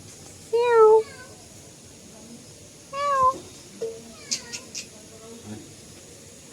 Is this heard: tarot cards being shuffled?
no